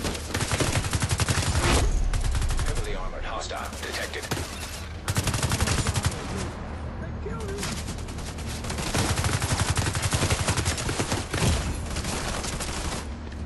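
Sustained, loud gunfire from a Division 2 firefight at the SHD Autumn Hotel: dense automatic bursts and shots that swell and ease in waves over about thirteen seconds, with a little speech mixed underneath.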